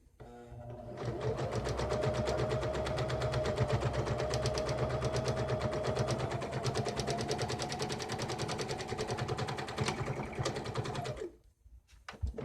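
A sewing machine stitches along the bottom edge of a fabric face mask, running in one steady, fast, rattling burst for about ten seconds before stopping.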